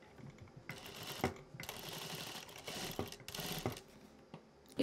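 Sewing machine slowly stitching through several layers of denim for a handbag, a quiet mechanical clatter in three or four short runs with brief pauses between them.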